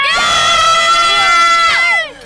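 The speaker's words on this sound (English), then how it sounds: "can you give everyone watching, all the children, everyone, a nice big cheer to show how much fun you're having today?" Three children at an English countryside field trip give one big, loud, shrill cheer together, sustained for about two seconds before cutting off.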